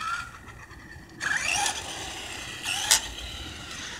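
A Traxxas Rustler RC car with a steering trim fault drives and veers right, its small motor whining in a couple of rising bursts over background noise, loud up close and then fading.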